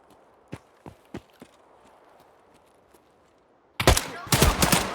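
Gunfire in Escape from Tarkov: a few faint, distant single shots spaced apart, then a sudden louder close-range volley of rapid shots near the end.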